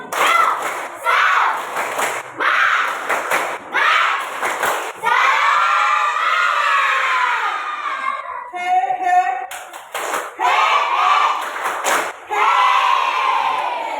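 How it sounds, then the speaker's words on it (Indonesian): A class of students in a school physical education lesson clap their hands and cheer loudly together in repeated bursts, with shouting voices over the applause. "Oke, tepuk tangan."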